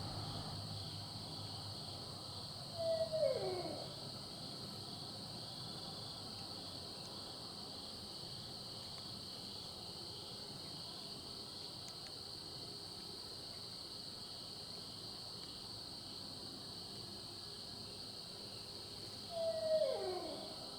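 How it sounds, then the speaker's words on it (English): An owl hoots in the dark before daylight, two short calls about sixteen seconds apart over a steady hum of crickets and insects, fairly distant. "this hoot owl tuned in with us"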